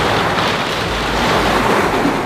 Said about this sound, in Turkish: Buraya döküyorum arkadaşlar.